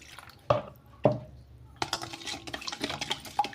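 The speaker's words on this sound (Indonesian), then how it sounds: "Kemudian tambahkan air esnya." Ice water goes into a puff pastry dough mixture of dissolved sugar and salt. Two sharp clinks are followed by a close stretch of splashing, trickling liquid and light utensil knocks, with no talking.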